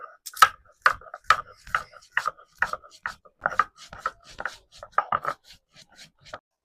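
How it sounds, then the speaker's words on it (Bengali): Spices being ground close by: steady rhythmic strokes, roughly two per second, scraping and knocking with no voices. "হালুয়া দেওয়ার জন্য আমি মশলাটা এবার গুঁড়ো করে নেবো সুন্দর করে।"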